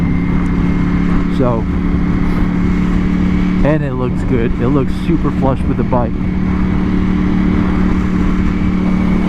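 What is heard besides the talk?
2021 Ducati Panigale V4S stock exhaust revving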